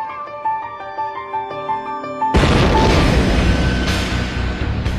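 A huge bomb detonates in Oslo's city centre, a sudden massive broadband blast cutting off quieter tonal sound and leaving a loud sustained rumble and roar with further crashing bursts.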